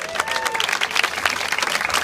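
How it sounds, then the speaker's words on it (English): Sustained applause from an audience, a dense wash of many hands clapping at steady loudness. "let's give you a round of applause for that"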